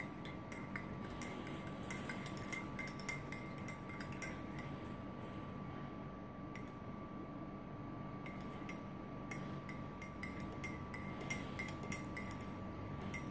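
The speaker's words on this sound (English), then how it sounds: "I'll stir the tea first since I have it closer to me." A spoon stirring instant tea with creamer and sugar in a cup, making steady rapid clinking and scraping against the sides, continuous and close over a constant low hum, with no talking.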